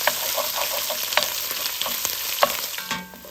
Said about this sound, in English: Now I'm gonna add in my sausage and just break it up in the skillet.